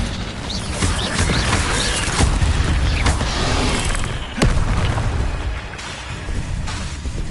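Incendio fire spell cast in Hogwarts Legacy: loud, continuous roaring whoosh of magical flame with rumbling bursts and one sharp crackling hit midway, no voices.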